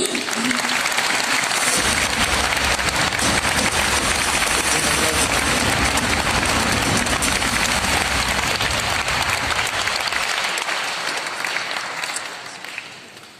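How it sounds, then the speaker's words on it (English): Sustained loud applause from a large audience at a Renew Europe congress in Warsaw, steady clapping that fills the room for several seconds before fading out. "please welcome, with a big round of applause"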